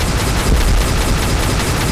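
Rapid, sustained gunfire from a Roblox video game, a loud, dense burst of shots rattling without pause for a couple of seconds.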